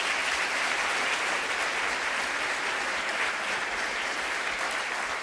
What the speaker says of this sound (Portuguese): E aplauda o Senhor Jesus por isso.